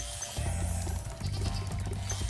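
Sheep in Spyro the Dragon Reignited give a few short, nasal bleats over a low game music bed, close and clear, with no talking.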